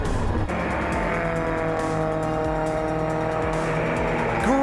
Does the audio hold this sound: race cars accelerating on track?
yes